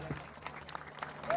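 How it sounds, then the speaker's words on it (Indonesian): Crowd applause at a large outdoor political campaign rally in Banyuwangi, a faint, distant wash of clapping under a steady hum, with a voice breaking in at the end. "tepuk tangan dulu."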